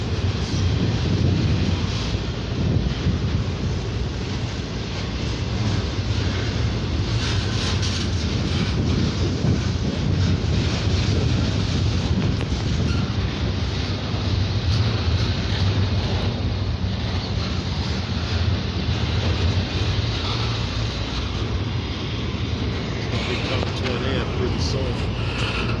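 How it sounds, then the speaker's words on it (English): A long freight train rolls past nearby in Bellwood, Illinois, a steady, loud rumble with wheel clatter and wind noise lasting throughout, with faint voices underneath. "they're freight trains. Of course they're long."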